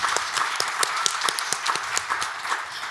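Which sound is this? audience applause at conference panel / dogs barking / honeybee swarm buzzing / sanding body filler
audience applause at conference panel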